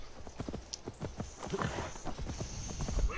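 Horse hooves clip-clop in a quick, regular rhythm in the video game Assassin's Creed Valhalla, heard up close under a faint background bed.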